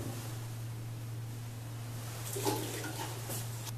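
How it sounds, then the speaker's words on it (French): Clean water splashes and swirls while two vaccine vials from a double-barrel piglet vaccination syringe are rinsed, a soft running-water wash over a steady low hum, with a few brighter splashing bursts toward the end. "je rince les deux flacons avec de l'eau claire"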